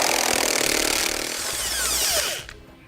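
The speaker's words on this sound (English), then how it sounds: "to remove our bolts, we're going to be using a 21mm socket" A power ratchet with a 21mm socket spinning bolts loose on a 2016 Chevrolet, a loud whirring buzz for over two seconds that slows with a falling whine and stops abruptly.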